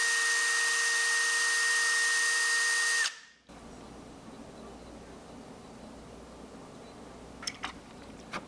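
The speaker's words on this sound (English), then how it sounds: "Drilled a hole, put a little tungsten ball in there" A power drill bores a hole into a red cedar crankbait body, a loud steady whine for three seconds that cuts off abruptly, followed by quiet room tone and a few faint clicks.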